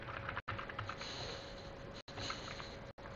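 Typing Python code on a computer keyboard, with soft rapid key clicks over steady background hiss, broken by a few brief dropouts; quiet and close, with no talking.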